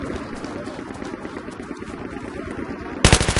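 Gameplay sounds from Battlefield 3 on the Caspian Border map, with a constant rumble of battle under a voice talking, then a loud, close burst of rapid M249 machine gun fire at the very end.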